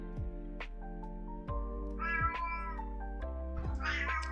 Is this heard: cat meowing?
yes